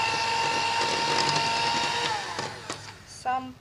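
Nastar cookie dough being beaten with a mixer after egg yolks go in, a steady loud motor whir that runs continuously, then winds down and stops near the end with a brief clatter.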